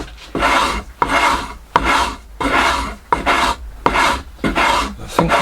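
A rasp shapes the wooden body of a guitar in steady rhythmic strokes, about eight close, loud scraping passes each separated by a brief pause.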